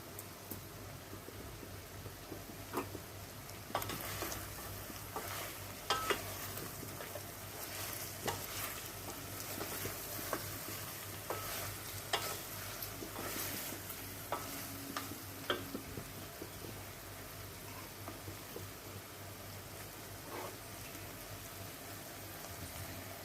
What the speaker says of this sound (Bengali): কটা কারি পাত্তা ফোড়নে এখনই দিয়ে দিচ্ছি